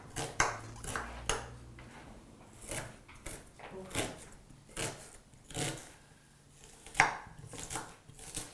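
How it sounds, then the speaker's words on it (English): A knife chops a small onion into small pieces for a Moroccan tagine, with about a dozen irregular, sharp board knocks close up over a low background. "We try to cut it small pieces."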